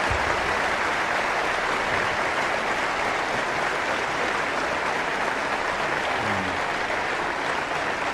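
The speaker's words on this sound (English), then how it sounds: "I would like to suggest we give them a rousing hand of applause for a job well done." Sustained applause from a large audience at a corporate annual meeting fills the room, with a dense, even clapping that stays steady for several seconds and has no talking over it.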